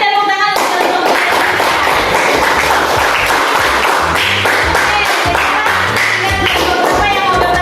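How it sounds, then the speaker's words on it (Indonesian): A classroom of students breaks into loud, dense clapping for a group after a presentation, with applause sustained throughout and voices mixed in. "Kasih tepuk tangan untuk kelompok 3."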